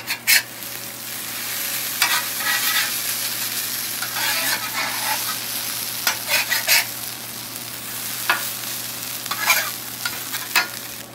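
Vegetables sizzle steadily in leftover sausage grease on a Blackstone flat-top griddle, a dense hiss with scattered scrapes and stirring clatter throughout, close and fairly loud, no voices.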